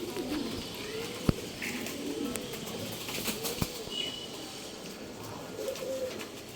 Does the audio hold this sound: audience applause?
no